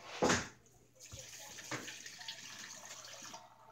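Water splashing and dripping as soaked Pokemon cards are wrung out, with a quick louder burst of liquid at the start and then a steady, faint trickle.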